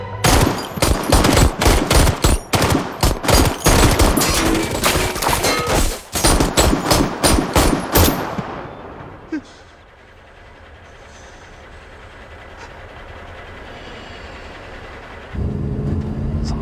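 Gunfire in an action film: dense, loud bursts of automatic fire rattle continuously for several seconds, then stop abruptly into quieter low rumbling ambience before another loud sound returns near the end.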